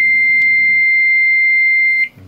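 An O2 fire alarm panel sounds its test alarm as one steady, loud electronic tone held for about two seconds, with a short extra blip near the start and a low hum underneath, before cutting out abruptly.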